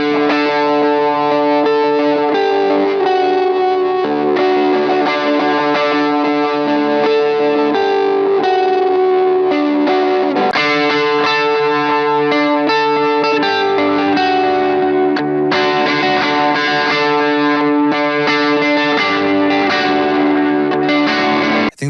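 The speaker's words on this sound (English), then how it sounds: "this is the old rig with the Tube Screamer and the Flashback on, and the Flashback is set to analog now." Distorted electric guitar played through a Tube Screamer overdrive and a Flashback delay pedal set to analog mode, sustained chords and notes with a bassy, smeared delay tail, loud and continuous throughout with no talk.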